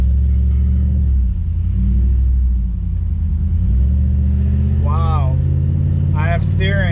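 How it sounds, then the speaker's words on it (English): Engine of a Dodge Durango project on a test drive, a steady loud rumble with rising and falling revs, while people talk over it. "let's go take it on a test drive"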